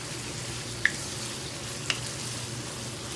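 Liver with hot peppers frying in a pan, a steady, fairly quiet sizzle with two brief sharp clicks as the pieces are turned.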